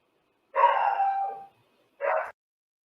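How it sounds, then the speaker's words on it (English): A dog barks indoors, one drawn-out bark-like yelp followed after a pause by a shorter second bark, fairly close and clear against silence. "If my dog starts barking, I'll have to mute this for a second and take care of that."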